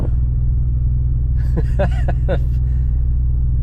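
A Mercedes-Benz car, bought for $250, runs with the accelerator floored, giving a steady, heavy low engine rumble throughout. A brief voice speaks in the middle.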